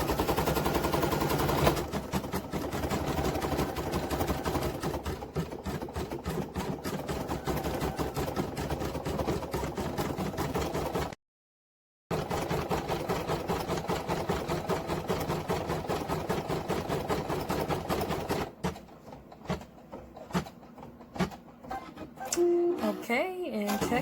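A sewing machine stitches white appliqué around a unicorn ear on a hooded towel, running in a steady rapid mechanical chatter with one brief pause, then it slows into scattered clicks and stops near the end.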